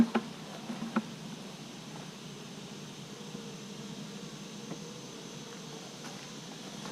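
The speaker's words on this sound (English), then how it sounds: "These are the Georgia bees." Georgia honey bees at a nuc hive give off a faint, steady buzzing hum, with a few soft knocks near the start and no talking.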